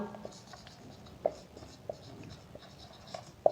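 Chalk or marker writing out a solution on a board during a chemistry lesson, faint scratchy strokes with a few small taps, quiet under a low room background.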